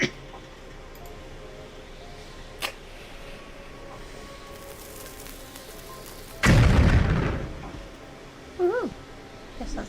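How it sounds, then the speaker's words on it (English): A gunpowder-loaded cannon fires a ball in a horror puzzle game, giving one loud, deep boom that decays over about two seconds after quiet ambient background, followed by a couple of short game sound effects. "Maybe put gunpowder and then the ball."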